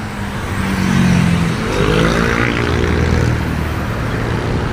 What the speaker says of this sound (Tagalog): Normal traffic situation today